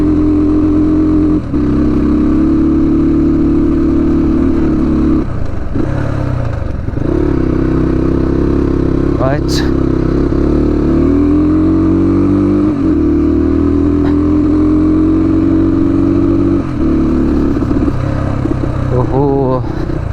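Motorcycle engine running steadily on a cold morning while riding along a newly plastered road toward Manang, with a continuous low drone and slight revving variations throughout, no voices.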